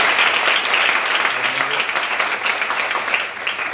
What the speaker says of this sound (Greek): Κάτσε κάτω και δώσε σε ένα γερό χειροκρότημα.